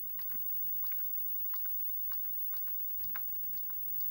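Keys clatter on a ZX Spectrum computer keyboard with an odd fault, about eight short, evenly spaced taps in a steady rhythm, close and fairly quiet against faint background hiss.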